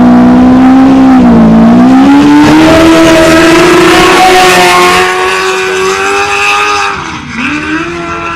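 Off-road race truck in the 2023 NORRA 500 desert race, its engine loud and sustained throughout, pitch climbing and dipping with revs as it draws nearer, then briefly dropping off near the end.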